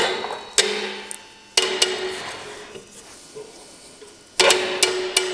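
On a Ford brake job, a brake adjuster spring is hammered into place with a few sharp metallic taps, a pause, then a quick cluster of close strikes that ring briefly.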